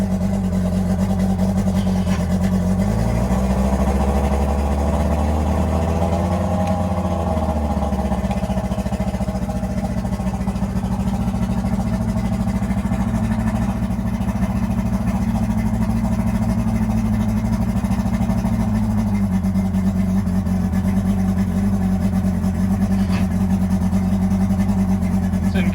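A boat engine under restoration runs at idle in gear, a steady loud low rumble that swells briefly with a rising pitch around a third of the way through before settling back, continuous throughout.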